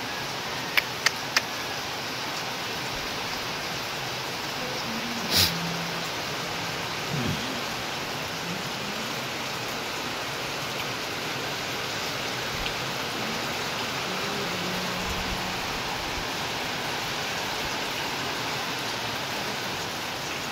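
Heavy rain falls outside a house, a steady, dense hiss that continues for the whole stretch, with a few faint ticks and thumps mixed in.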